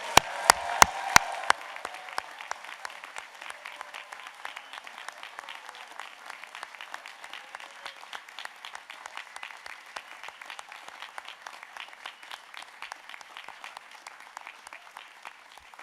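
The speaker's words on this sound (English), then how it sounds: "I think they deserve a very wholehearted cheer of congratulations" A large audience in a university great hall bursts into sustained applause for graduates at a UTS Business School graduation ceremony, beginning with a few sharp near claps before settling into dense, even clapping that continues throughout.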